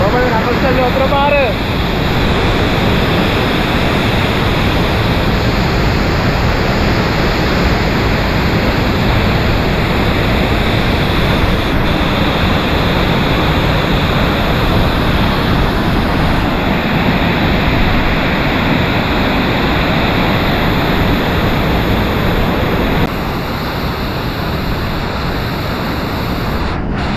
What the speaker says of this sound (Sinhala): කොහමද නකල්සල් වතුර පාර